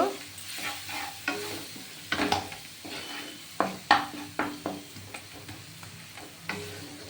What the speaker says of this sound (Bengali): আর জিরের গুঁড়ো হাফ হাফ চামচ আর দেব একটু সামান্য মিষ্টি টেস্ট করার জন্য এটা একটু ভেজে নেব